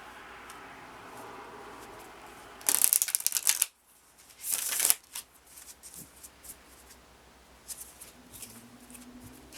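Tarot cards are shuffled in two quick riffling bursts, each about a second long, set against a quiet room hum, followed by softer card handling and small taps.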